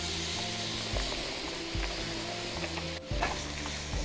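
Meat and onion frying in oil for Uzbek-style plov, a continuous bubbling sizzle with occasional stirring knocks and a brief scrape near the end, close and moderately loud.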